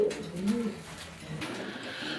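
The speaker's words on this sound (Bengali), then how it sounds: "ডাকে ভরপুর ডাকের কবুতর" A domestic pigeon of the local desi breed coos nearby in low, rolling, repeated calls, clear against faint background noise.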